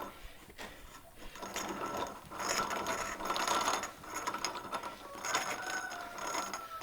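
A Wonder Junior hand grain mill being loosened, giving close ratcheting, grinding mechanical clicks and scrapes that come in uneven bursts.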